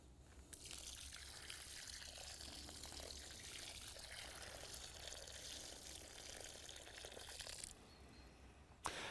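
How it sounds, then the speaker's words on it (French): Water poured over a newly planted bare-root peony, a faint, steady splashing trickle that stops near the end. "On va arroser la pivoine surtout pour éviter qu'il y ait des poches d'air qui se forment"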